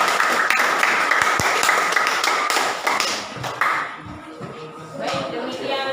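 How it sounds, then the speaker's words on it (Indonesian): A classroom of students claps after a group presentation, a busy patter of many hands at close range that thins and fades toward the end, with light shuffling and taps. "Tepuk tangan dulu."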